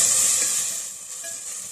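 Vegetables with black pepper and chili garlic sauce sizzle and get stirred in a hot pan for chicken chop suey, a steady loud hiss close up with light scraping from the mixing and no talk.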